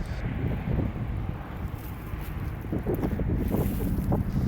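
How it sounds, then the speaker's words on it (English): Heavy wind buffeting a microphone outdoors in a pet cemetery, a low rumbling roar that gusts and swells continuously without letting up. "it is super windy out here today, so I apologize if the wind is loud in the microphone"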